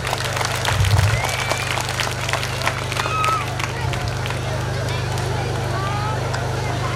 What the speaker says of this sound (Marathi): या दोघांसाठी सुद्धा आपण जोरदार टाळ्या वाजूया